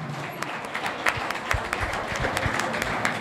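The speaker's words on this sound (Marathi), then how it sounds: "सर्वांनी जोरदार टाळ्या सरांसाठी वाजवल्या पाहिजे." Audience clapping in honor of a teacher at a government Ayurvedic college alumni meet, a moderately loud spread of individual claps from a modest crowd, steady and uneven throughout.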